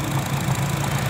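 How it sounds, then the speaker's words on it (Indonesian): A 2010 Honda Jazz GE8 RS with a 1500 cc engine idles smoothly, a steady, even low rumble heard close up with no other sounds. "Dan ini suara mesinnya"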